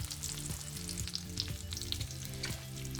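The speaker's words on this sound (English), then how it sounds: "I'm going to fry these until they're nice and crispy" Bacon strips fry until crispy in a pan, giving a continuous crackling sizzle with sharp pops scattered throughout, close and steady with no talking.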